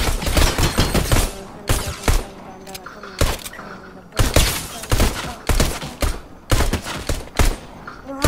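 Pistol gunfire in the Fortnite video game, loud sharp shots fired in quick repeated bursts with short gaps between volleys.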